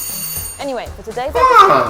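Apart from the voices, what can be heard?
doorbell ringing at a German home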